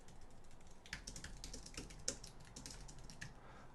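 Typing on a computer keyboard fills the stretch with a quiet, close, uneven patter of key clicks, a few louder taps standing out, with no voices.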